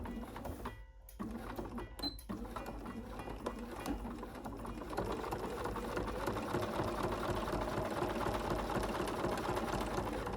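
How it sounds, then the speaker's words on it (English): A sewing machine stitches binding onto a quilt with a steady, close, rapid mechanical chatter that runs continuously after a couple of brief stops near the start. "We're going to sew at a 1/4 inch seam allowance for this."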